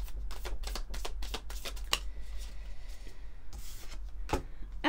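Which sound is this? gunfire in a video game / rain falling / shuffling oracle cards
shuffling oracle cards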